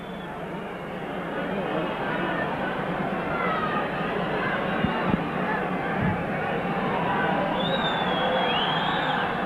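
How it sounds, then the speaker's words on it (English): Hull Kingston Rovers fans at a rugby league cup match against Warrington make a broad, steady crowd roar of cheering and chatter, filling a large stadium with a continuous distant wash of noise. "The Rovers fans are cheering."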